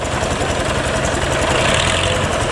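A large engine on a Vietnamese rice-field harvester runs loudly and steadily at close range, a dense continuous drone with rapid rhythmic knocking and vibration and no pauses.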